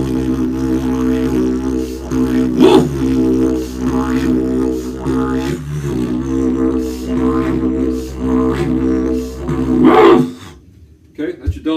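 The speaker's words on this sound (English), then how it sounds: "You can bark like a dog while you're playing this." Didgeridoo drone played with a barking vocal technique, the steady low hum broken by several loud, growling bark-like bursts from the player's voice, close and forceful, ending abruptly.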